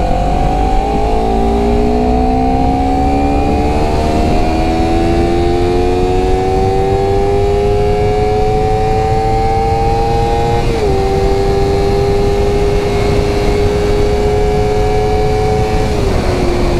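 A 2019 Honda CBR 250RR motorcycle engine revs up close and loud, its pitch climbing steadily in a long sweep, dipping briefly and then holding a high, even whine.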